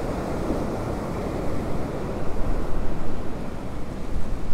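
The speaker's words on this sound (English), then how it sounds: "Some pretty big waves, some pretty big surges coming up on shore here." Big waves and storm surge from Hurricane Milton pound the shore near a seawall, a loud, churning roar of surf and wind that swells and pulses in the second half.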